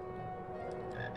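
A frog in the Harry Potter and the Philosopher's Stone video game gives a short, steady croaking drone, close and clear with no talk over it.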